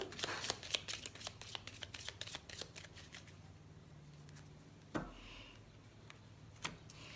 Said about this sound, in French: Alors, on va couper le jeu.